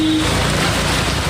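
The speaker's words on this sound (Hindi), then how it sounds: "कराची के मज़ाफाती इलाकों में भी बादल जमकर बरसे" Heavy rain pours down in Karachi, a dense, loud and continuous hiss of falling water with no pauses and no voices.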